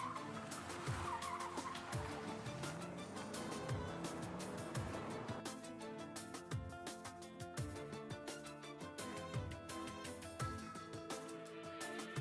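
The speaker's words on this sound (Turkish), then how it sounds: "Gaza bas." A car driven hard, with a strained engine and tire skid noise blending into a dense, continuous roar alongside a music-like layer throughout.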